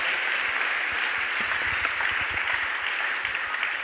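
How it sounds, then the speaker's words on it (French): A church congregation at a Sunday service claps together, a dense, steady burst of applause filling the room at close range for the whole stretch. "Let's clap for the word."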